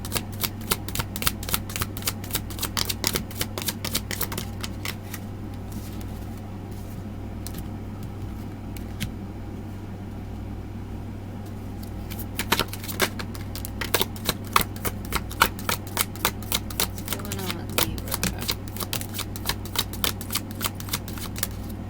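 Tarot cards being shuffled by hand, crisp rapid riffling bursts close to the microphone that pause in the middle and then resume, over a low steady hum.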